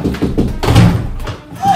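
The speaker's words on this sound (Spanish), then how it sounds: "Llaman a la puerta." A few dull knocks thud against a door in quick succession in a video game, close and fairly loud, followed by a brief pause.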